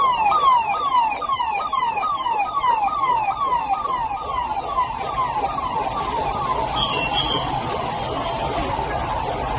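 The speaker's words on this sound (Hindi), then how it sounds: "देखिए साहब किस तरह से सायरन बज रहा है।" A loud, close siren wails continuously in rapid repeating sweeps from a convoy escorting the Taliban foreign minister to Deoband, dominating the scene without talk.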